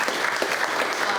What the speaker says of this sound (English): I just want to thank them and give them one more round of applause